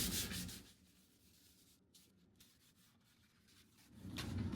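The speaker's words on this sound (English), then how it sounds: "back to doing some sanding on this teak" Teak wood on a boat being sanded by hand, a continuous close rasping rub that fades somewhat in the middle, then grows louder again toward the end, with no voices.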